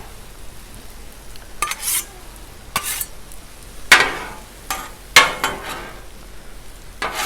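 Chicken stir fry with spicy sauce on a 36-inch Blackstone griddle: a constant sizzle broken by sharp metal spatula scrapes and clanks every second or so, close and loud, with no voices.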